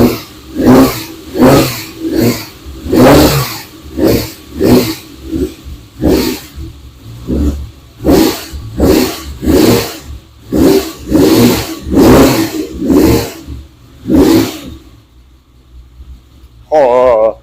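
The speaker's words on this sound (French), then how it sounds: "Ouais, Daytona a démarré du deuxième coup." A Ferrari Daytona V12 engine catches on the second try and is blipped repeatedly, loud rhythmic revs rising and falling close by for about fifteen seconds before dropping away, with a brief voice at the end.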